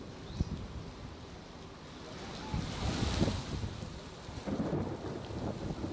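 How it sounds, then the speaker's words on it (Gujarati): A thunderstorm with heavy rain and strong wind in Amreli, Gujarat: steady rushing rain and gusts with low rumbles of thunder swelling in the middle, fairly distant and subdued throughout. "વીજળીના કડાકા ભડાકા સાથે વરસાદ થયો."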